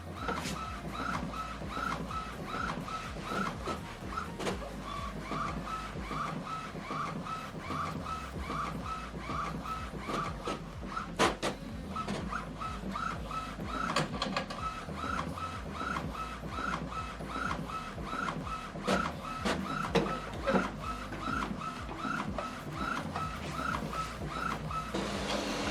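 An Epson WF-3820DWF inkjet printer runs a print head alignment page, giving a steady, close mechanical whir with rhythmic carriage clatter and shuffling paper feed for about 25 seconds. No one speaks.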